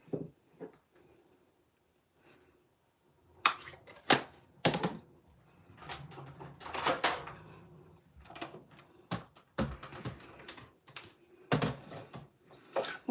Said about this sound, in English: let me pull in our cut and emboss machine now